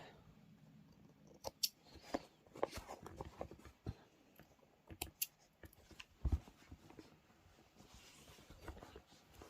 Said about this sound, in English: I'm just going to trim the threads off.